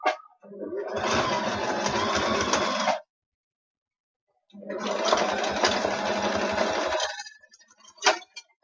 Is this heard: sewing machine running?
yes